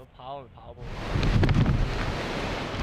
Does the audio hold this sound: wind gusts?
yes